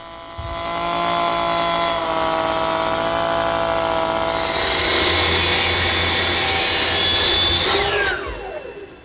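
A router bit cuts a half-round and cove molding profile into wood stock in a single pass, a loud steady high-pitched whine with rough cutting noise that builds partway through, then spins down at the end.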